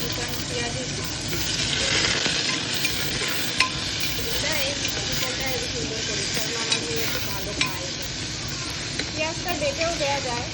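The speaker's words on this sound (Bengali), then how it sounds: "তারপরে পেঁয়াজগুলো আমি কুচিয়েই দিচ্ছি।" Chopped onions sizzle steadily while being stirred in a pan for a chicken stew, with scraping utensil knocks throughout and a voice talking over the cooking.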